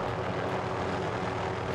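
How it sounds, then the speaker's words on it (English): A helicopter in Call of Duty: Warzone drones in a steady, even engine and rotor hum, close and unbroken, with no talk over it. "Wow, this is the slowest descending helicopter"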